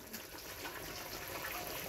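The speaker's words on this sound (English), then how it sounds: "I'm going to pour some hot water into my bowl." Hot water poured into a bowl while cooking St Vincent Caribbean peleau, a soft continuous gushing pour heard close and quiet throughout.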